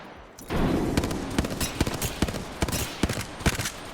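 Repeated gunshots in an Apex Legends ranked match, a steady series of sharp cracks and short bursts over a loud, busy game background, fairly close and ongoing throughout.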